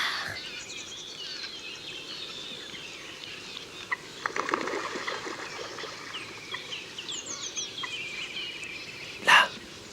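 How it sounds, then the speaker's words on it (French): Ducks on a wetland give faint, scattered calls over a soft outdoor background, with a louder, sharper call near the end. "Des canards."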